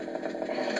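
Brief snarling buzz of a chainsaw in a video game, a steady revving rasp lasting under a second.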